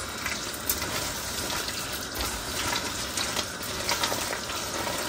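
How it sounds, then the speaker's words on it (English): Beef broth poured into a simmering pot of chili, a steady close liquid splash and sizzle with no talk over it. "Add another cup of bean"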